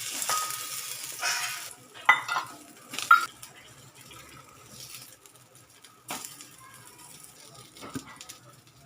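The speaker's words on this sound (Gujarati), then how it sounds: "તો આપણે હવે આને તળી લઈશું. તળવા માટે આપણે થોડુંક જ તેલ મૂકવાનું છે" Soya tikki frying in a little oil over a low gas flame, giving a soft, steady sizzle with a few louder clinks and stirring bursts of pans throughout, no talk.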